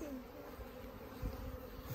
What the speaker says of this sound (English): you can see the bees swarming around there